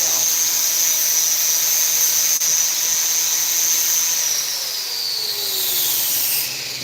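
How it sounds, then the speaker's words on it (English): A junk screwdriver tip is ground against a bench grinder to remove a small weld spot, giving a steady high-pitched whining squeal close by that holds for several seconds before easing off near the end. "You grind it off and it goes down."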